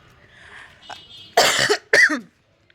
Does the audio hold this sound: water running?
no